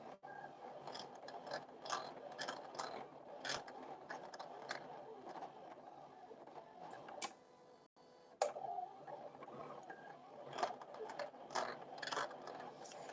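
Silhouette cutting machine working a 12 by 15 sheet: a busy run of mechanical ticks, ratcheting clicks and gear whirs in uneven bursts, with a brief pause near the middle before the motor resumes.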